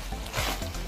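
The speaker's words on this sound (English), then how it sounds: "So I'm gonna add the Irish potato" Irish potatoes are dropped into a pot of pork stew, producing a close, soft sizzle and bubbling with a stirring scrape, plus a brief thump near the end.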